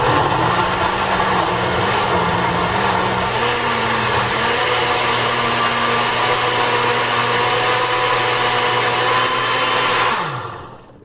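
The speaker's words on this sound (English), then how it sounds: "make sure your blender is plugged in and push go" A kitchen blender whirs loudly as it purees gazpacho made with cold water, a steady motor whine with a shifting pitch that runs continuously for about ten seconds before spinning down and stopping.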